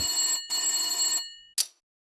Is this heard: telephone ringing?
yes